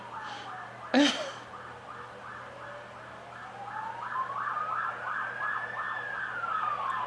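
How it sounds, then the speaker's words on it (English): A wailing ambulance siren rises and falls steadily in the distance, with a brief loud knock near the start. "And now we've got police sirens out there, or ambulance sirens."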